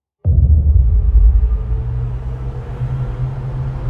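An Audi e-tron GT electric car starts up with a sudden deep synthetic hum and a low, steady drone that carries on evenly and fairly loud, with no other sound over it.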